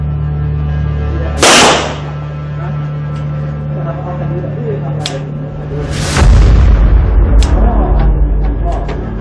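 Two sharp, loud gunshots fired at targets crack out several seconds apart, each followed by a decaying echo over a steady low hum, close by, with a voice briefly heard.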